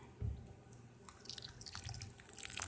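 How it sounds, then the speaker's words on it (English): Water poured onto the soil of a potted houseplant grown from a mango seed, heard as soft, close trickling and dripping that grows busier toward the end, with no speech. "I'm going to water it well so that the dirt"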